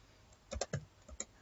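A handful of computer keyboard keystrokes typing code, sharp close clicks grouped in a short irregular burst with brief gaps, alone in a quiet room.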